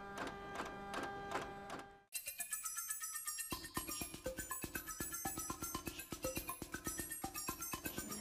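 A Braille printer works in rapid bursts, dense repeated mechanical clatter and striking, briefly pausing before resuming a fast, even hammering rhythm close by.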